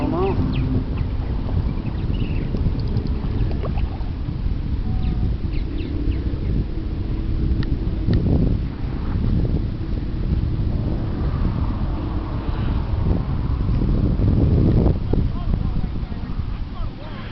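The G3 Marquis freighter sails upriver, a continuous low rumble from the ship carried on steady wind noise outdoors, with faint bird calls and occasional thumps.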